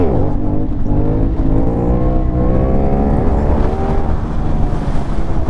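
A CFMOTO 450 NK motorcycle engine revs hard in second gear during a clutch-up wheelie, a loud, continuous roar with rising and falling pitch under heavy wind rush.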